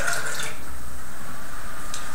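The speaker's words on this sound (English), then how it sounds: "Just get rid of the water from here." Water poured out of a Tim Hortons paper coffee cup into another container, a steady, fairly close splashing stream that tapers off within a couple of seconds, with no talking.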